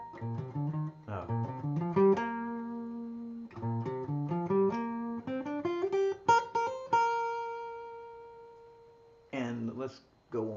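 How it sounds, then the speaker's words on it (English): A guitar plays a pentatonic scale, single notes climbing and descending in short runs with pauses between them, each note ringing and decaying, moderately quiet and up close with no speech over it. "So that would sound like this on the guitar."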